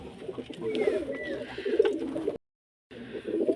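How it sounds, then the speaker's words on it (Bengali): Pigeons cooing at close range, soft repeated throaty coos and a few chirps, broken by a brief silent gap. "দেখো পায়রাগুলো সব আছে"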